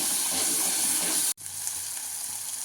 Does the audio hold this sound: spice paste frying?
yes